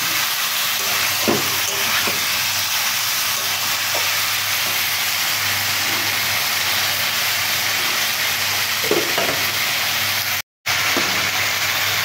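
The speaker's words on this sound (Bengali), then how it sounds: "এবার বন্ধুরা আবার একবার ভালো করে নাড়াচাড়া করে নিলাম" Steady, close sizzling from spiced meat being stirred in a hot pan while cooking with taro and malabar spinach, with scraping strokes every few seconds and a brief dropout near the end; no voices.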